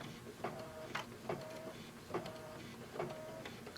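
An embroidery machine stitches around a quilted basket design in the hoop, giving a steady mechanical hum with regular clacking bursts about every half second and a short whirring tone between them, close and alone.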